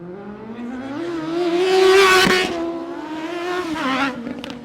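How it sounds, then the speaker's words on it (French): Motorcycle engine bouncing off the rev limiter during an illegal street rodeo in France: a loud, steady high-revving drone with rapid stuttering cuts and a sharp crackle, close by and without speech. "Et là, des petits rupteurs de moto."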